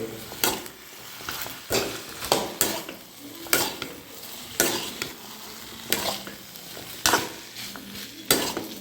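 Tomatoes and coconut sizzle steadily in a pan for fish curry while a utensil scrapes and stirs in regular strokes, close and fairly quiet, with no voices.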